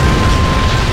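A nuclear missile detonates in the real-time strategy game Red Alert 2, producing a loud, sustained, deep rumbling roar that fills the whole second without easing off.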